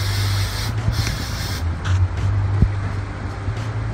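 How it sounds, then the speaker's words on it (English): Mass airflow sensor cleaner sprayed from an aerosol can onto a car's sensor during engine maintenance, several short hissing bursts close by over a low background hum. "get a mass airflow sensor cleaner, and then you're going to spray it"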